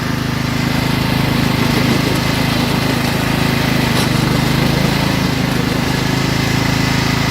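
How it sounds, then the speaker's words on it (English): A Craftsman 42-inch riding lawn mower runs at top speed, its engine a loud, close, unbroken drone that holds steady throughout. "This is about top speed right here."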